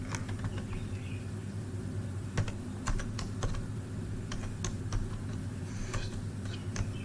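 Steady, sparse key clicks come from code being typed on a computer keyboard, close and fairly quiet over a constant low hum.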